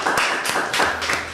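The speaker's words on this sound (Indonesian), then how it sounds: "tepuk tangan dulu dong" A handful of people clapping, a few loose, uneven claps close by, brief and not very full.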